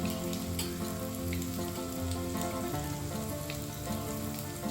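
Dried red chillies frying in hot oil alongside curry leaves in a pan, a dense continuous sizzle and crackle with steady loudness, alone without talking.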